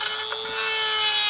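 A spade bit drilling into a wooden cutting board, giving a loud, continuous, close grinding whir that holds steady through the short stretch.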